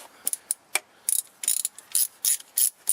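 A socket ratchet tightens the transmission pan bolts on a 1999 Mazda Protege automatic, giving close, crisp bursts of rapid clicking in short repeated strokes with brief pauses between them.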